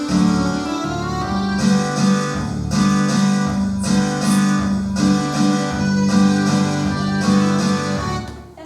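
Tinikling dance music from the Philippines plays continuously and loudly, with steady tonal melody over a rhythmic pulse of regular beats throughout, no voices.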